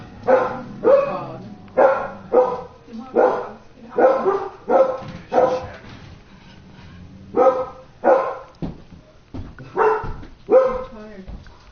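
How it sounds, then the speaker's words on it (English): A dog barks repeatedly indoors, a long run of loud, close, evenly spaced barks with a few whimpering yips, and people talk at times in between. "What are you barking about?"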